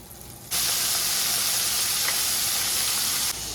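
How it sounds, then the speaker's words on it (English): A loud steady sizzle starts suddenly as morel mushrooms hit a hot pan, hissing evenly for a few seconds before easing off. "first batch of morels are in there frying up"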